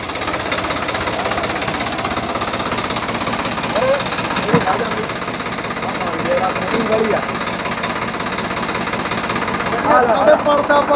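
A heavy tractor engine, a model 855 pulling a 9-foot super seeder through muddy farmland, chugs and rumbles continuously nearby with a rough, knocking vibration, steady throughout with a brief clank midway.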